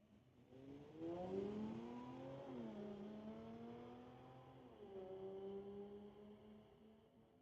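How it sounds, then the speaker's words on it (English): A 2011 Mercedes E550 and a 2012 Audi drag race at a street-legal night at a raceway, heard from a distance as rising engine drones that climb through gear changes, with one upshift midway and a second rise later. "Bring it up with Stu Candia in the 2011 Mercedes E550, racing Sean Candia with the 2012 Audi."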